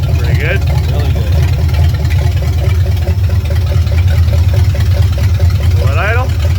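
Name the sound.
1965 Ford Mustang Fastback engine idling after first start in 44 years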